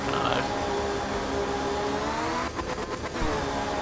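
A four-speed rally car in Art of Rally holds a high, sustained engine drone with layered harmonics, briefly stuttering through quick gear shifts or rev drops near the end, with no talk.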